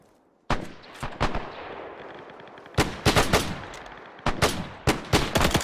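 Enemy gunfire in the Arma 3 video game during a WWII-era platoon training operation: sharp, loud bursts of rapid shots in separate volleys, with brief gaps between them and no voices.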